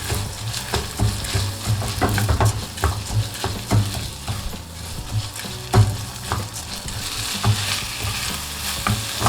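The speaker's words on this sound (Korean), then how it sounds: "쌀 넣어주세요. 섞어주시면 돼요." Rice stirred in a pan of sizzling olive oil and butter, a steady frying hiss with repeated scraping strokes of the spoon, close and continuous.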